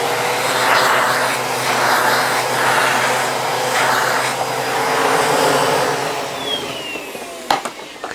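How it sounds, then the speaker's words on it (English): A shop vac runs steadily, vacuuming sanding dust off a clear-coated surface between sanding passes, a loud continuous motor whine and airflow rush with a brief knock near the end. "you can grab your shop vac and vacuum it off"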